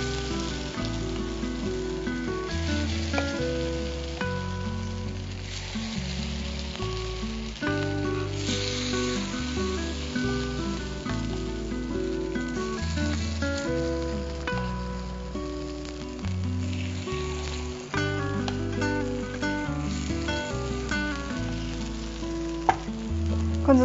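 Spicy vegetable paniyaram sizzles and crackles steadily in a pan, with music playing underneath the continuous frying.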